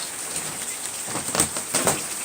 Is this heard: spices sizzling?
no